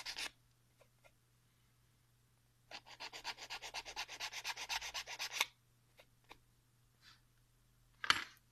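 Brown stuff sculpting putty is sanded by hand in a quiet room, one steady burst of rapid rhythmic scratching strokes lasting a few seconds, with a few faint rubs before and after, close and alone.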